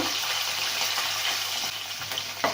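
Curry leaves sizzle and crackle steadily in hot oil in a pan while cooking a Maharashtrian katachi aamti, a continuous close frying hiss with a few louder spatters near the end.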